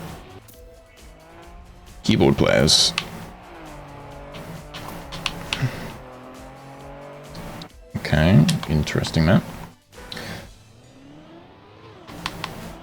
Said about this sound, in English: Rally car is great